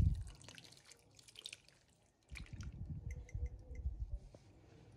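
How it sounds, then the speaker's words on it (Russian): Water is added to a tomato paste and sour cream sauce for cabbage rolls: a quiet, close trickle and splash at the start, then a pause, then a longer soft gurgling pour with small drips. "Я просто добавлю воды."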